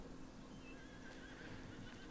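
Horses in Farming Simulator 19 give a faint neigh against a steady background hiss, with a few light hoof clops.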